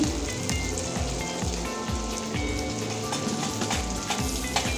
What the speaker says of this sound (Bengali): আদা রসুন পেঁয়াজের সঙ্গে একটু কষিয়ে নেব